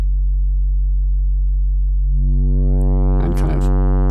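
A steady synthesizer sine tone shaped by a wave shaper drones low and loud, then its timbre brightens and sweeps as harmonics rise, with brief crackly bursts near the end.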